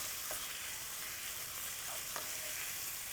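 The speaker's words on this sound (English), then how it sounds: "Okay, give this a nice stir." Tortellini with chicken and pesto stirred in a hot pan, a soft, even sizzle with a few light scrapes of the utensil, quiet and close, no voices.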